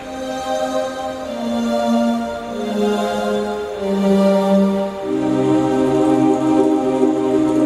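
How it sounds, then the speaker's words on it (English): Slow synthesizer chords step downward one by one, sustained and full, each held for about a second before sliding lower. "I kind of walked the chords down with like a slow synthesizer sound"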